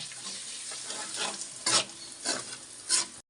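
Ground turmeric and spices being stirred into fried onions in a frying pan, steady sizzle broken by several louder scraping strokes of a spatula, close and alone.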